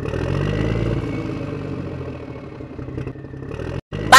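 A motorcycle engine idles nearby with a low, steady rumble and some light clattering, fading slightly toward the end before a brief cutoff; no talking is heard.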